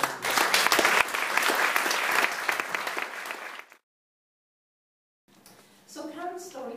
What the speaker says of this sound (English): can we offer her a big round of applause and acceptance?